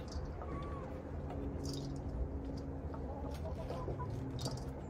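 Backyard chickens cluck busily during feeding, a steady layered chorus of hens with a few sharper calls rising above it, and a faint voice in the background.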